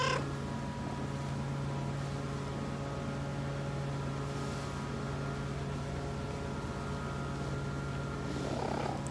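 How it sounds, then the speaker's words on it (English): Pet cats purr close by in a home, a steady low continuous rumble running unbroken with no voices over it. "My little kitties."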